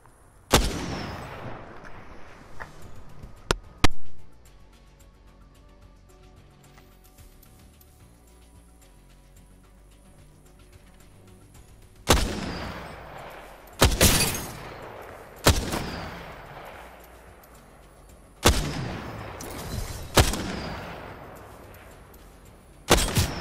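Gunfire rings out in a firefight in Apex Legends, loud shots and short bursts arriving in clusters separated by quieter stretches, with echoing tails after each volley.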